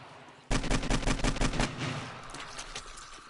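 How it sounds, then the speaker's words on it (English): Rapid automatic AK rifle fire in the 7 Days to Die video game, a loud burst of closely spaced shots lasting just over a second, then fading echoes and quieter game ambience. "Should probably stop shooting my own base."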